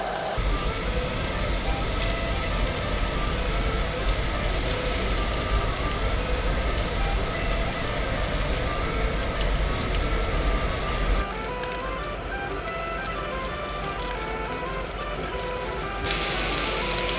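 Thick meat grills under a lid inside a new Toyota TownAce camper van, giving a steady, dense sizzle that runs throughout at a fairly loud level and changes tone slightly partway through, with no talking.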